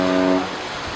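A supertanker's deep horn sounds near the Isle of Wight, England: one loud, sustained tonal blast that cuts off within half a second, leaving wind and open-water noise.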